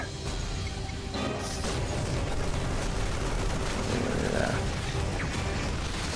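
Ghost sniper shots in a StarCraft 2 match between gumiho and Reynor, a few sharp cracks buried in a dense, continuous wash of battle noise.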